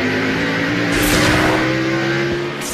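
A NASCAR stock car at the 2002 Virginia 500 roars at full throttle, its loud, steady engine drone sweeping past with a brief rising whoosh as it goes by.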